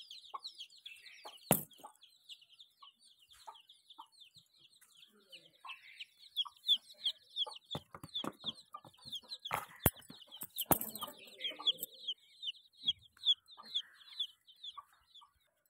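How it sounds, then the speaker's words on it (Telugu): Backyard chickens, with newly hatched chicks, clucking near a home vegetable garden in the early morning, with busy high chirping throughout and a few sharp knocks and thumps close by. "అటు వచ్చి మా కోళ్ళు అండి"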